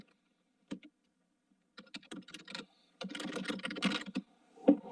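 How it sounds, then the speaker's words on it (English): A very clicky computer keyboard is typed on furiously during an online Rise of Kingdoms session, with short bursts of keystrokes at first and then a longer, dense run of rapid, close clicking. "I heard that furious typing"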